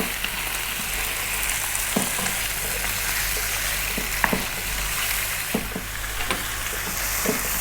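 Mutton pieces fry in a pan over slightly above medium heat for curry, giving a steady, loud sizzle with occasional stirring knocks and pops throughout.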